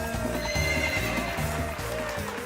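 A horse neighs loudly, a drawn-out whinny over rhythmic clip-clop hoofbeats, heard close up as a sound effect with no talk.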